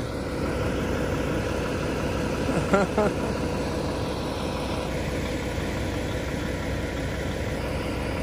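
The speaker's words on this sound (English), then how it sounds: "As you can probably hear the noise, the truck is right behind me." A freight truck idles right behind the speaker in a Walmart parking lot, a loud, steady low engine rumble that fills the scene without pause while someone talks briefly over it.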